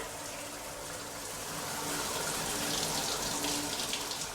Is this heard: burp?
no